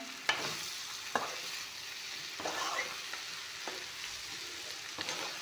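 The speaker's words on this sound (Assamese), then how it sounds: "অলপমান টাইম মাংসখিনি ভাজি ল'ম" Local chicken meat frying with raw papaya in a pan sizzles steadily up close, with a spatula striking and stirring at irregular intervals, several sharp clacks over the hiss.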